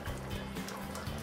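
Water poured into a cooking pot to stretch a sauce for braised ribs with sauerkraut, a steady close trickle and splash with a low hum underneath.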